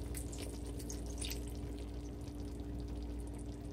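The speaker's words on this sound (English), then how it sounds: "I'm just pouring a little bit of water," Water is poured in a thin stream into a pot of Jamaican steamed fish with okra and oyster sauce, a steady close trickle and splash with faint bubbling over a low kitchen hum, no talking.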